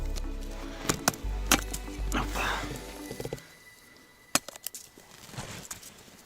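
Sharp wooden chops from a small hatchet at a winter forest campsite in deep cold, several separate strikes spaced irregularly, close and fairly loud, with brief low thumps and quiet background noise between blows.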